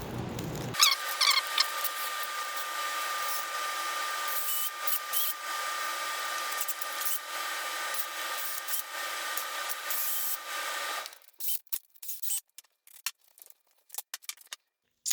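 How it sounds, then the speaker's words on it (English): 800-grit sandpaper lightly rubs the commutator of a Bosch starter from a 2002 BMW E53 X5, a steady close scratchy hiss for about ten seconds, then breaking into short irregular strokes. "I got 800 grade sandpaper that I'm gonna use to lightly sand the commutator."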